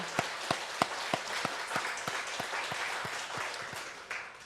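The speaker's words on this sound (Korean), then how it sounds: "우리 한번 격려의 박수를 보내드리겠습니다" A church congregation claps in encouragement for Sunday school teachers, a broad roomy patter of many hands with a few sharper individual claps standing out, sustained then tapering.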